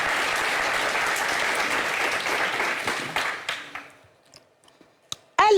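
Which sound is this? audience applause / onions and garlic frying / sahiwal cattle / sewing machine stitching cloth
audience applause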